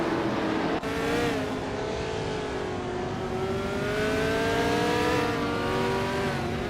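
A 1969 Legrand Mark 11 race car in a racing video game drones steadily at high revs, its engine pitch climbing and sliding through gear changes, loud and continuous with no talk.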